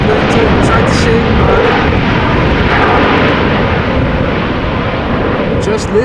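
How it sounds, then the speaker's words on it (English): A small plane applies its thrust reversers on landing at Amsterdam Schiphol Airport during a storm, a loud, steady roaring rush that fills the whole stretch with dense broadband noise and no talk. "just listen to those reversers. It's a small plane, but when they do apply the reversers, it does sound nice."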